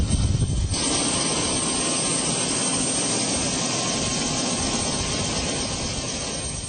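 Helicopter flying over the Great Barrier Reef in Australia, giving a loud, continuous roar of engine and rotor that stays steady and close, with no one speaking.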